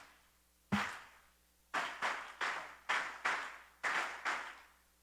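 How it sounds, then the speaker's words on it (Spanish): A church congregation claps in unison, giving about eight loud, sharp claps in an uneven rhythm with short gaps between them. No one speaks. "Usted le puede dar un fuerte aplauso al Señor Jesucristo."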